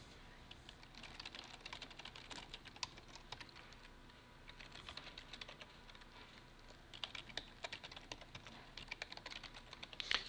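Continuous typing on a computer keyboard while filling in an email address and password on a registration form, a steady run of close, light key clicks with brief pauses and no talking.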